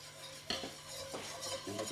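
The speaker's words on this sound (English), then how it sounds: "So now we're ready to start with mixing in the cream." A spoon stirs cream into a beef sauce in a pan: soft scraping swirls and a light clink against the metal, with faint sizzling underneath, close and quiet, no talking.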